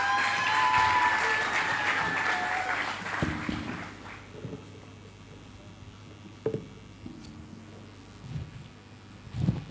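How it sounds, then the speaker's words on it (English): Forum audience applause for an entrepreneur speaker, dense clapping over music that tapers off within about four seconds, leaving scattered claps, footsteps and room noise. "A round of applause for her."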